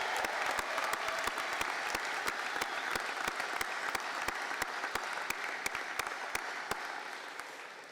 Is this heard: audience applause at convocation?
yes